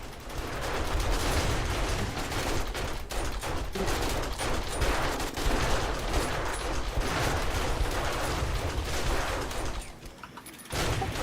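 Sustained gunfire rattles continuously while players fight a zombie in 7 Days to Die, a dense steady barrage with almost no pauses until a brief drop near the end.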